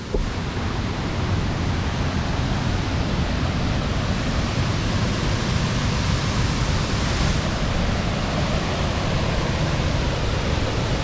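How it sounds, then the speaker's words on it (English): Thoovanam waterfall in the Chinnar Wildlife Sanctuary roars as a dense, unbroken wash of rushing water, steady and full throughout with no voices. "This is the majestic Thuvanam waterfalls."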